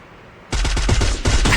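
Rapid automatic gunfire in the Free Fire video game: after a quiet moment, a loud, close burst of evenly spaced shots runs to the end with one brief pause, and no voices over it.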